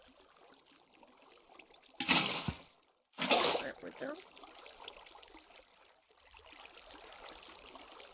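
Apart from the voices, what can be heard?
water poured onto dry concrete mix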